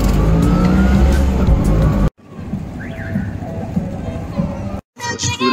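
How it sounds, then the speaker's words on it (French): A car engine runs close by in rural Peru before a ride to Churubamba, a loud steady rumble broken by two sudden cuts, with a softer stretch between them. "J'ai trouvé la voiture qui m'emmène à Churubamba."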